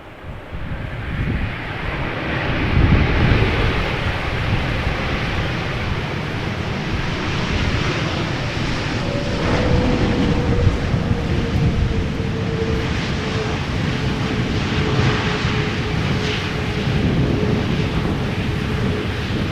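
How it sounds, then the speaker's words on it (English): An Airbus A330neo airliner, a brand-new airframe, lands at Amsterdam Schiphol in a crosswind, its engine roar broad and steady for the whole stretch, joined midway by a rising whine, all under gusty wind noise on the microphone. "It's an A330 Neo. Still crabbing, even though the wind is one knot less than it was in the beginning."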